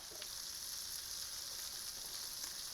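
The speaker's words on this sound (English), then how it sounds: "I think it's time to put our steaks in the broiler" Steaks sizzling under an oven broiler, a steady soft hiss and faint crackle with no voices.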